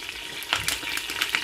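Palm oil sizzles and pops in a cooking pot for Nigerian egusi soup, a short burst of close crackling with no talk.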